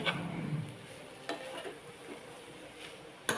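Vegetable stir-fry simmering on a low gas flame, a soft steady sizzle with a few faint scrapes and clinks of a spoon against the pan; quiet and close, with no talking.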